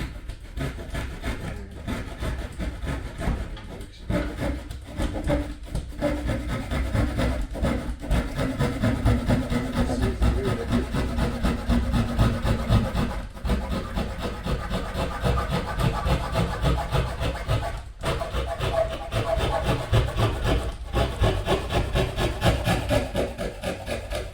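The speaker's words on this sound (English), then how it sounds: "So I always do this last bit either with a jigsaw." Wood is cut with a jigsaw in a long, steady run of rapid rasping strokes. The sawing sounds close and fairly loud, with a few short pauses along the way.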